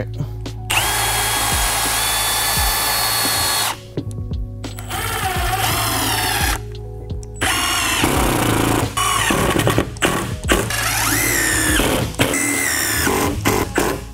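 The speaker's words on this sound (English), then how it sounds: "Drill some pilot holes." A power drill runs in repeated loud bursts, spinning up and biting into wood while drilling pilot holes for a shipping crate, with brief pauses between holes.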